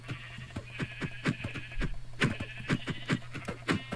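Video-game goats bleat over and over in quick, overlapping calls, fairly close, above a low steady hum.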